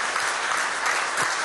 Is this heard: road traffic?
no